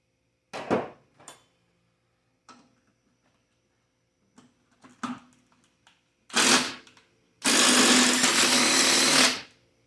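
An impact wrench works a nut on a 1991 Honda Civic D15 engine during removal, starting with short test bursts and building to a long, loud rattling run near the end, with a quiet garage in between.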